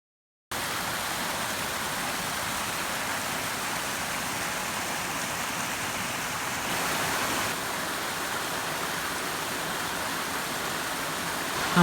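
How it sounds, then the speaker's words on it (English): A river rushes below a forest trail in the Great Smoky Mountains, a steady rain-like roar that starts abruptly and continues evenly, heard from a distance without any voices. "It sounds like it's raining, but it's not actually raining. I can't see it, but there is a river beside the trail down below me."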